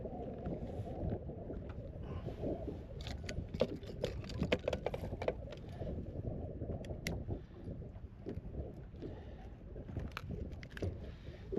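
Wind buffets the microphone on a fishing boat out on the water, a constant low rumble with scattered small knocks and splashes, no talking.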